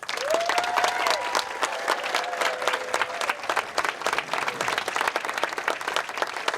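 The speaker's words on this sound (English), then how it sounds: "Let's give these ladies a huge, huge round of applause." A crowd at a women's professional bowling tournament, the PWBA Waterloo Open, gives sustained applause, dense steady clapping throughout with a brief whistle-like tone near the start.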